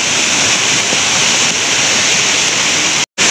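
The Chandranagar waterfall near Dapoli in the Konkan gives a steady, loud, broadband rush of falling water that continues unbroken, apart from a brief dropout near the end.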